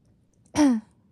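A single short throat clearing from a young woman lying down, close and clear, lasting under half a second in an otherwise quiet room.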